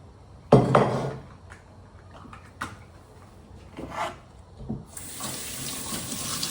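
Pork ribs are rinsed under a running kitchen tap in a sink, with a sudden splash of water, clattering of the pot and wet rubbing, then a steady hiss of flowing tap water at the end.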